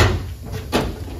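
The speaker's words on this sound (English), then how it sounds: "you gotta have the drawer shoved all the way in before it'll lock it in the back." A drawer on a Yukon mobile tool workbench is pushed shut, giving one short dull knock-like thud near the end of a brief stretch of room noise.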